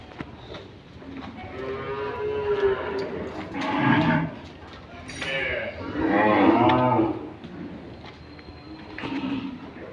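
Tethered dairy cows in a crowded cattle shed let out about five deep moos at uneven intervals, some nearer and some farther off, over a low background murmur.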